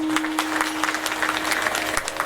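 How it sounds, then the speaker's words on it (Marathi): A crowd at a devotional kirtan gathering claps together in a steady, dense burst of applause that carries through the whole stretch, with a faint constant hum underneath. "जे हिंदू आहेत त्यांचीच टाळ्या वाजल्या."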